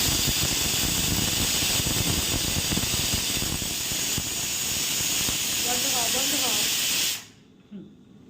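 A pressure cooker boiling potatoes lets out a loud, steady steam hiss for about seven seconds, then cuts off abruptly, leaving a quiet room with a faint knock after it.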